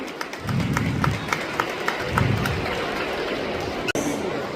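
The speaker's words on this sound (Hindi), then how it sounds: "एक बार संस्था, एसपी सर और कलेक्टर सर के लिए जोरदार तालियां।" Applause at a school's annual function held in honour of the institution, the SP and the collector, a steady wash of many hands clapping from a crowd, with murmuring voices underneath and a brief thump near the end.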